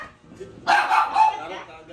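A dog barks loudly in a quick burst of sharp barks, with people talking excitedly over it.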